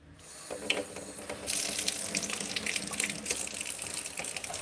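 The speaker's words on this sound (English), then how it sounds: "Just a light watering for these guys." Warm water poured lightly over indoor food garden plants in containers, a soft splashing trickle that swells into a steady gush and continues up close.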